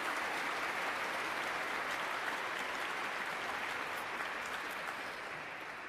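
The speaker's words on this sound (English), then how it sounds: "Please give yourselves a huge round of applause" Graduates at Princeton's Class of 2024 baccalaureate ceremony applaud in a dense, sustained wash of clapping that fills a large hall, holding steady and fading slightly at the end.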